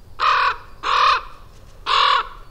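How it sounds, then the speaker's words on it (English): Three loud, harsh common raven croaks, each about a third of a second long, spaced unevenly with short pauses between, close by and alone. "while ravens croak."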